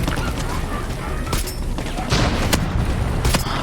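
Heavy tank cannon blasts and explosions in the video game Far Cry 6, several sharp booms over a dense, continuous battle din, with faint talk underneath.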